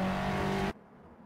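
A pack of Clio Cup racing cars in the Assetto Corsa racing game, at the Lédenon circuit, makes a loud, close, sustained engine drone. The drone then cuts off abruptly, leaving faint background noise.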